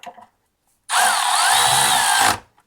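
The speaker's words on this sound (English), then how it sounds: "fancy shiny ratchet." Power ratchet driving fasteners during a transmission install on a Jeep Wrangler TJ, a single loud, close whirring burst of about a second and a half with a rising and falling whine.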